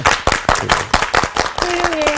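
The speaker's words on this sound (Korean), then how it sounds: "우리 박수 한번 합시다." Audience clapping during a Korean Bible study class on Luke, a run of distinct handclaps with a steady rhythm and a brief sustained tone near the end.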